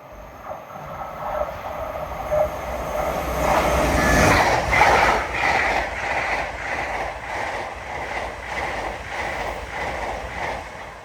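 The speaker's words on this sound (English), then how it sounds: "passing through now is a duo of Class 802 Paragons en route from London King's Cross to Hull." A pair of LNER Class 802 Paragon trains en route from London King's Cross to Hull rush through Alexandra Palace on the East Coast Main Line, a loud close roar swelling and fading with rhythmic wheel beats and brief squeal.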